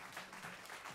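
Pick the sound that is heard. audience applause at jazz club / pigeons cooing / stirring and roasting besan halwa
audience applause at jazz club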